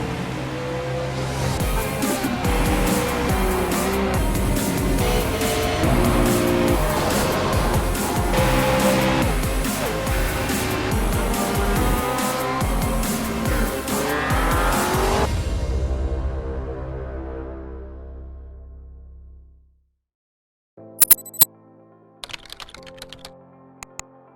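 Race cars roar continuously in the iRacing sim racing game during a 2017 BSR MX5 Winter Series round at Brands Hatch, a loud sustained engine wash that fades out, followed by sparse clicks.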